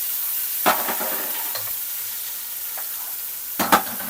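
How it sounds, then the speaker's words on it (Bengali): Chopped onions being stirred in a pan for Afghani pulao: a steady sizzle of frying runs throughout, broken by a few sharp scraping strokes of the spoon near the start and end, with no talking. "আগে এটা একটু নাড়া দিয়ে নিই"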